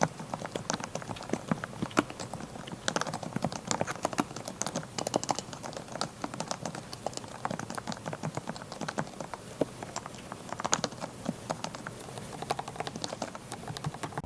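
Fast, continuous typing on a first-generation Realforce keyboard, close-up key presses in an irregular, steady stream of soft clicks and thocks lasting throughout, with no voices.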